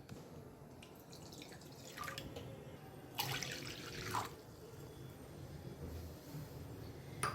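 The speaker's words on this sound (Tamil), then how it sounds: "வானல் வச்சுட்டு ஒரு 2 டம்ளர் அளவு தண்ணி சேர்த்துப்போம்." Water poured from a tumbler into a pan on a stove while cooking aloo tikki: a quiet, soft splashing trickle that rises in two short bursts, the second longer, over a faint room hiss.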